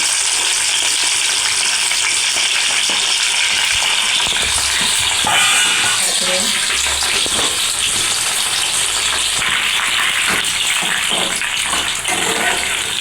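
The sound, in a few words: broad beans frying in oil in a pan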